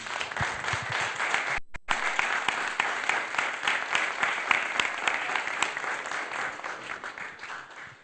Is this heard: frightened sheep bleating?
no